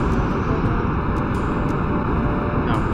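Rocket engine firing at full throttle in the Kerbal Space Program video game, a loud, steady, dense roar that runs unbroken through the whole stretch with no talk over it.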